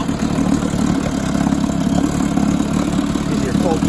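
A 1953 Scott-Atwater 7.5 hp Gold Pennant outboard motor runs steadily on a slightly rich fuel mixture, a continuous close, loud idling putter with no breaks.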